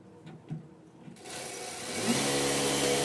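Sewing machine stitching a princess-cut blouse, starting up after quiet handling noises and running in a steady, close, mechanical whir that grows louder toward the end.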